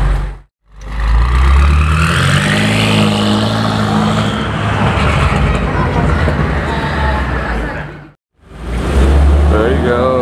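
A straight-piped BMW M8 Competition with downpipes and a tune pulls away with a loud, sustained engine roar close by, cutting off abruptly near the end before another burst starts.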